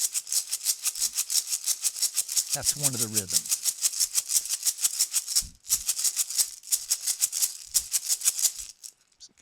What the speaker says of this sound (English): The first instrument I'm going to show you here is called a tail shekere.